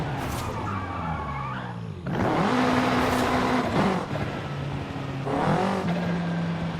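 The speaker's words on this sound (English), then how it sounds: "the turbo in this thing makes that little tooting noise" Turbocharged car engine in the Forza racing game, revving through shifting tonal harmonics, with the turbo spinning down between throttle bursts, close and steady with no talk.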